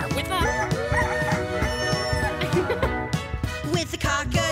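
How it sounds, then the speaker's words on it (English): A cartoon rooster crows on a farm at daybreak in a Mickey Mouse cartoon, a bright rising call set against a busy, continuous music score that plays throughout. "The rooster wakes up the farm with a..."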